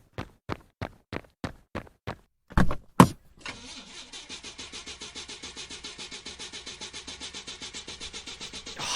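Quick footsteps approach a car, a door bangs shut loudly near the three-second mark, then the engine cranks over and over in a steady grinding rhythm without catching.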